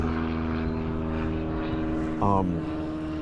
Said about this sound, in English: We live near a small airport